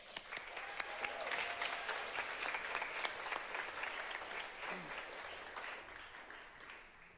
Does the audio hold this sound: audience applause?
yes